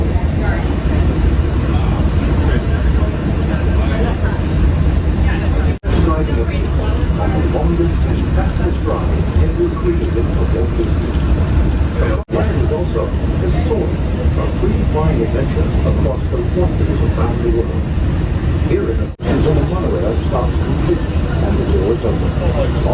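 Walt Disney World monorail carrying riders toward Epcot, a loud, steady rumble of the moving train that fills the whole ride, broken by three brief dropouts spaced several seconds apart.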